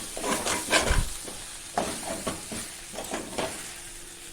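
Papaya thoran with onion cooking in a pan, stirred with a spoon: irregular scrapes and clinks over a low sizzle, close and moderately loud, with no voices.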